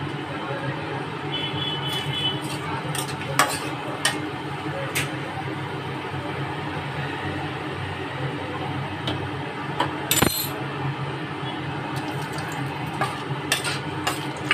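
Whole bay leaves, dried red chillies, cumin, cardamom and cloves fry in hot oil while being stirred, a continuous close sizzle broken by light scraping ticks and clicks of the utensil against the pan.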